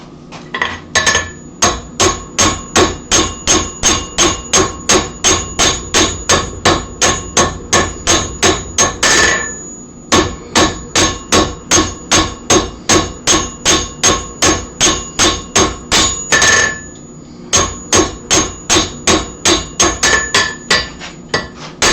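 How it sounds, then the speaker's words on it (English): Sharp cross peen hammer striking hot steel to spread a chisel at the forge: loud, close metallic blows in a fast, even rhythm, broken by two short pauses. "if I want to spread more aggressively, I'll just grab the cross peen"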